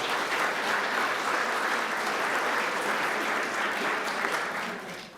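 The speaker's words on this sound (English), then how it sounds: "Ladies and gentlemen, a round of applause for our" An audience at a lecture-series event claps in a sustained, even burst of applause that fades slightly at the end.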